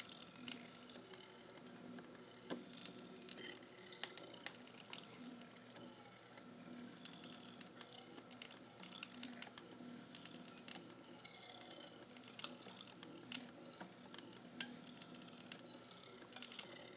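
A wooden Etch a Sketch clock's stepper motors draw out the new time, a steady stream of fine mechanical ticking and patter with small clicks, close by and without talk.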